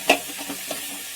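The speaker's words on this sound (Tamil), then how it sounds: "இப்போ இது ஸ்லோ ஃப்ளேம்லேயே ஒரு 5 மினிட்ஸ் நல்லா ஃப்ரை ஆகட்டும், பச்சை வாசனை எல்லாம் போகிற வரைக்கும்" Onions and tomatoes fry over a slow flame in a pan for a crab masala, with a single brief clink of a spoon followed by a faint, low sizzle.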